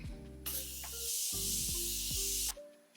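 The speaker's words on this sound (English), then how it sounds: "So when I spray it, y'all are gonna see the type of setting spray that I like." A Morphe makeup setting spray gives off a long, fine misting hiss lasting about two seconds, close to the microphone, over a low steady background hum.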